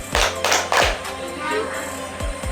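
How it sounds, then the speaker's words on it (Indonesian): A primary school religion class claps together in an Islamic clapping routine, a few sharp group claps in quick bursts with short pauses between, close and fairly loud over a room murmur. "Jadi tepuk tangan Islamnya jangan dilupa ya"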